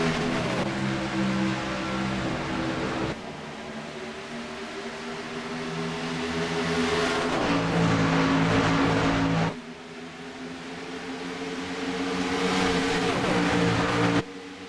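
Race cars roar around a short oval at Arlington partway through a 125-lap race, engines droning steadily and then surging as the pack accelerates, with sharp shifts in pitch where cars pass close by. No voices are heard.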